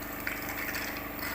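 Distilled water pours into a laboratory beaker near a flame photometer, a steady, close liquid gush with a faint rhythmic pump-like pulse underneath for just over a second.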